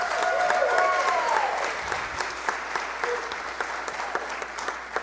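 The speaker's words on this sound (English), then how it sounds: "let's give them a round of applause for a 21-0 undefeated season" A council chamber crowd applauds a team's 21-0 undefeated season, a dense steady wash of clapping that holds throughout and thins slightly toward the end, with a few faint voices mixed in.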